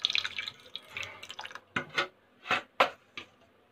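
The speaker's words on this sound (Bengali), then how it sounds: "এখানে আমি জল দিয়ে গুলিয়ে নেব।" Rice flour is stirred into water to make a batter for chapati with bottle gourd leaves, giving wet sloshing and squishing strokes that come in irregular, close bursts.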